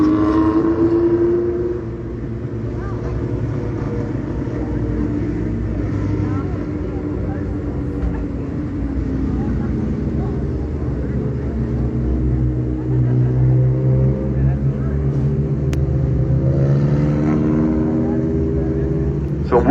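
Race cars roar around the Hattiesburg speedway during a feature race, engine drones rising and falling as they pass, heard from a distance under steady commentary.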